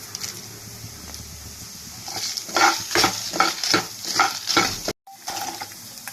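Chana dal, dried red chillies and fenugreek seeds are dry-roasted for tiffin sambar, stirred briskly with a rhythmic run of scraping strokes against the pan before a brief pause and more stirring.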